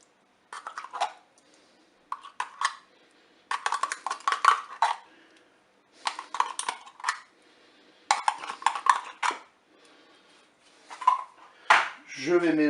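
Corn and tomato paste going into a Cookeo pot, a series of short clattering bursts of metal utensils scraping and tapping against the pot in separate spurts, close and fairly loud, ending with a quick higher clink.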